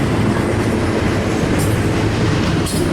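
A train rumbles past at Cajon, a loud, close, continuous roar of wheels and cars on the rails with a couple of brief high squeals, filling the whole stretch without any voices.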